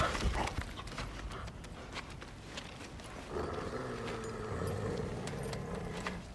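Horse hooves clip-clop in steady rhythm from God of War Ragnarok, moderately close, over faint ambient game sound and music.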